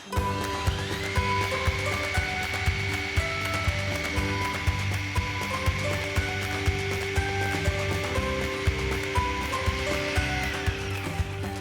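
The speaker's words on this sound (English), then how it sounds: "we're going to blitz it again, and then add a little bit more" A blender blitzes rockmelon sorbet with egg white, a loud, steady motor whine that runs unbroken and close, with small regular knocks and no voices.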